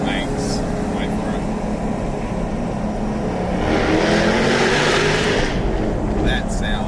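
A Jaguar F-Type R's engine and exhaust swell into a loud rising roar midway, then ease off, with people talking over the steady hum of the car.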